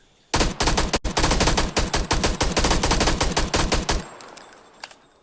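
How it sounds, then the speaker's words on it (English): Rapid automatic gunfire from a video game, a loud near burst of dense rhythmic shots lasting several seconds, with one brief gap near the start, then cutting off into quiet game ambience. "I just want to shoot my gun"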